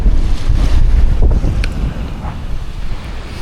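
Strong wind blows hard over Lake Ullswater with whitecaps on the water, buffeting the microphone in loud, rushing gusts over a low roar of waves aboard a Honwave T38 boat.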